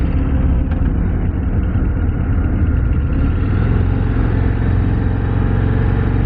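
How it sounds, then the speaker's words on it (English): A 2024 Harley-Davidson CVO Road Glide ST performance bagger fitted with different exhaust pipes idles steadily close by, a deep, continuous low rumble that keeps an even throb for several seconds with no voices over it. "Oh man, that engine is nice."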